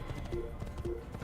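Horse hooves clip-clopping in the Assassin's Creed video game, a quick rhythmic run of hoofbeats close up over a low game soundtrack, brief and steady.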